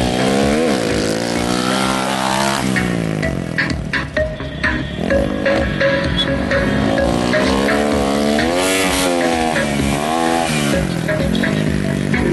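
A rally car at the 2014 SJOBA Thunderbolt Rally is driven hard on the stage, its engine loud and close, continuously revving and shifting with rising and falling pitch throughout.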